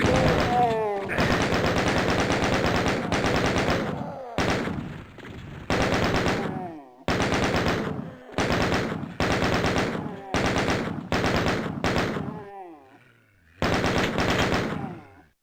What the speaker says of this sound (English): I see a chain gun! Me want that chain gun.